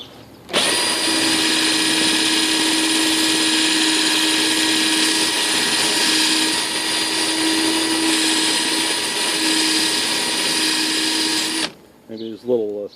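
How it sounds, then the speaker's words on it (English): A power drill spins an abrasive cup brush against the metal of a 1963 Airstream trailer, a loud steady whine held for about eleven seconds before it stops and someone speaks. "I'm going to try this abrasive cup here."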